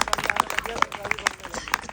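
An audience claps hands in quick, steady rhythm, sharp close claps repeating through the clip at moderate volume, with voices heard alongside.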